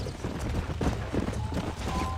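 A horse's hooves drum in a fast, irregular gallop in Red Dead Redemption, close and continuous for a couple of seconds with a faint voice underneath.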